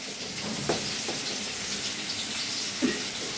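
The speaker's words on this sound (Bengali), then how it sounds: "আর এই যে এখানে মাছ ভাজতেছি" Fish frying in a pan on a home kitchen stove sizzles steadily, a soft, even hiss with a couple of brief louder spits, heard close and without talk.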